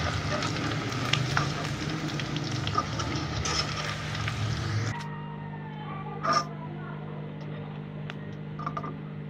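Chicken manchurian pieces fry in oil with a steady crackling sizzle that drops in intensity midway, leaving softer bubbling and a few clinks, fairly close and quiet.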